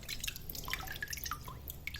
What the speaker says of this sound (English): Bubbles coming out when I squeeze it.